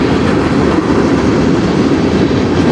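A train rumbles steadily on rails as it climbs a hill from a nearby yard, a loud continuous low roar with faint clickety-clack, no voices.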